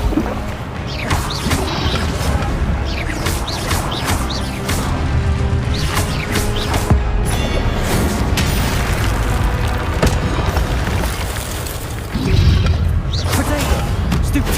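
Spell-casting effects from the Hogwarts Legacy video game, dense booms, crashes and whooshes of combat magic (shield, stunning, disarming and fire spells) firing one after another, loud and continuous with a heavy burst near the end.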